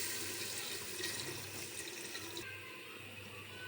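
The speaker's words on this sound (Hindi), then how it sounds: "अब हम इसमें हस्बे ज़रूरत पानी को शामिल करेंगे" Water runs steadily into a pot of potato and meat curry (aloo gosht), a continuous close splashing pour that drops in brightness partway through.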